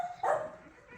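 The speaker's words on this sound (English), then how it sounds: "This Remy's a super smart dog" A dog gives a single short bark or yip indoors, fairly close but moderately quiet, with faint room noise around it.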